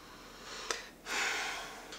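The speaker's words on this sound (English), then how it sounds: "first we gotta do a little sniff test" A quiet, close sniff of hard cider followed by a longer drawn-in breath through the nose, with a soft click at the start.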